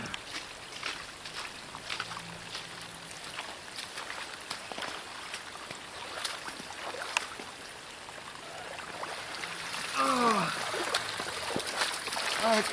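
Boots wade through freezing winter flood water over ice, with soft sloshing and splashing steps that grow louder toward the end, under some speech.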